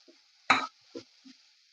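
A spatula stirs grated radish in a pan for Maharashtrian mulyachi bhaji: one sharp scrape followed by two softer strokes, close and quiet over a faint hiss.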